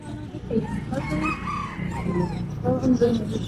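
Small chickens and a rooster on a farm, with a crow and clucking calls close by, while people talk over them.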